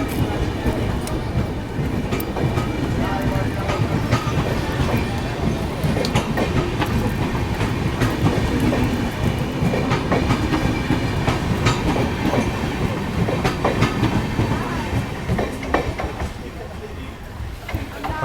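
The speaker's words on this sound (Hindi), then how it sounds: "हमारी ट्रेन भी निकल चुकी है, जैसा आप पीछे देख ही पा रहे होंगे" The 12165 GKP SF Express pulls out of Bhadohi station with a steady rumble and rhythmic clickety-clack of carriages rolling past nearby, continuing throughout, with a person talking over it at times.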